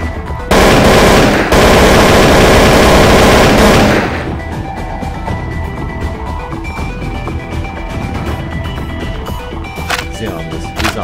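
Rapid automatic gunfire from the video game SCP Breach rattles loudly for a few seconds in a dense burst, then cuts off and leaves a quieter in-game background.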